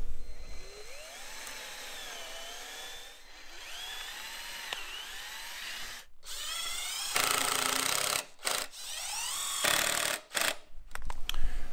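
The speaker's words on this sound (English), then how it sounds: "I'm just using regular screws, doing some pre-drilling, and probably put 2 to 3 screws in each corner" Power drill pre-drilling and driving regular screws into wooden raised-bed corners, with several separate bursts of whining, rising motor pitch and harsh broadband drilling noise, loud and close, no talking.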